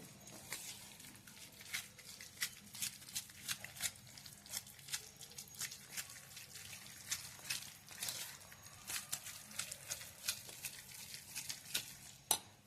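Semolina cake batter mixed with milk being whisked in a bowl, a quiet rhythmic scraping and clinking of utensil against the bowl in irregular strokes, faint and close, with no speech.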